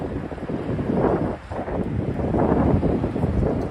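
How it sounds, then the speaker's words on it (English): Strong wind roars steadily into the microphone on a Manhattan street in New York City, a loud broadband rumble with gusts that briefly dip before rising again. "Very, very windy."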